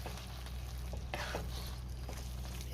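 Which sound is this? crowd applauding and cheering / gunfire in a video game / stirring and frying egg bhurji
stirring and frying egg bhurji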